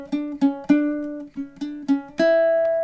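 Ukulele strummed in a down-up rhythm for the opening of a song, about seven crisp close strums in an uneven pattern, the last chord ringing out, with no voice.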